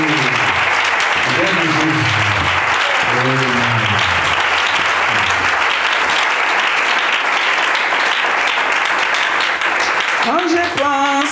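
A church congregation applauds loudly and continuously in acclamation of God, a dense wash of clapping with a voice speaking over it early on and again at the very end.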